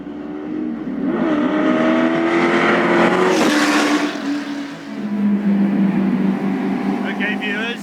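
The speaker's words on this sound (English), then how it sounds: "this is an actual GT40 that competed at Le Mans in 1966" A 1966 Ford GT40 Le Mans race car with a loud, steady engine roar that rises and holds at high revs, then dips briefly and swells again as it drives past, heard alone without speech.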